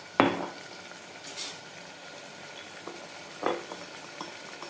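Tempering of curry leaves, mustard seeds, cumin, ginger garlic paste and tomato frying in a pan for a jackfruit seed curry, a soft steady sizzle broken by a few spoon scrapes and clinks against the pot.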